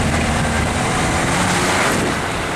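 An off-road vehicle, a Jeep Grand Cherokee or Pajero on chains, drives through water with a continuous loud rushing splash and engine noise, steady throughout the brief moment with no talk.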